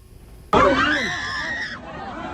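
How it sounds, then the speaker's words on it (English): A sudden burst of loud, panicked screaming from several people during a mass shooting outside a bar in Dayton, Ohio erupts and sustains, with shrill overlapping voices over a chaotic background. "Panic screams and blast of unrelenting gunfire still echoing across the country tonight"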